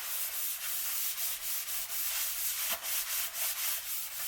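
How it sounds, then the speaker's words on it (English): Steady, close sanding of a surfboard with a hissing, gritty rub, pulsing in quick regular strokes back and forth with no talking. "sanding it down right now, making sure everything pretty much off"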